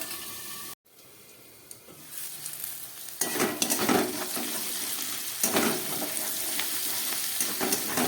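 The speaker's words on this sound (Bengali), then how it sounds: "খুব ভালো করে আমি আলু আর পেঁয়াজ টমেটোটাকে একটু ভেজে নিচ্ছি।" Potatoes, onions and tomatoes fry in a covered pan. A low hiss starts after a brief cut-out and swells to a strong, steady crackling sizzle, close and with no talking.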